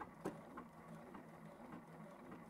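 A domestic sewing machine runs steadily and quietly through the end of a felt-craft stitch, with a low mechanical hum and faint rhythmic clicking plus a brief tap near the start.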